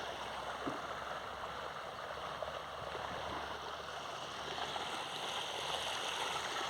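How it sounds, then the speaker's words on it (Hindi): Water flows in a stream on a mountainside, a continuous close rushing and gurgling that stays steady throughout, with no talk over it. "ये पानी बह रहा है।"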